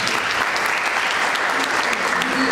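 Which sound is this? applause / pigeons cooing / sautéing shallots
applause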